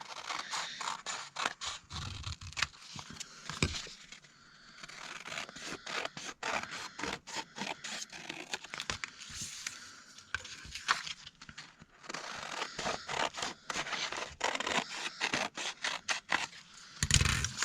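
Scissors snip through paper ephemera for a junk journal in a series of quick, close cuts and scrapes with short pauses between them. No one speaks.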